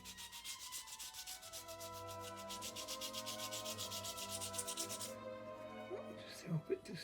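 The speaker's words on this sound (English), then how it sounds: "Give it a touch with sandpaper." Sandpaper rubs a small wooden part of a 1:84 Artesania Latina Santísima Trinidad ship model in quick, even back-and-forth strokes, close and fairly quiet, stopping near the end as a few light handling knocks follow.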